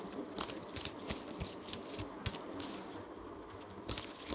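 Tarot cards being shuffled by hand during a reading, quiet crisp riffling and flicking in irregular bursts with soft paper scrapes, close and faint.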